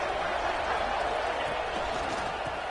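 A steady, loud wash of stadium crowd noise in a college football video game, a dense roar from the stands holding level throughout with no distinct voices.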